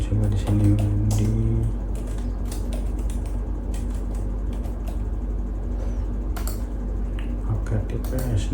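Computer keyboard keys clatter in quick irregular taps while a name is entered, close over a steady low hum, with a voice talking in the background.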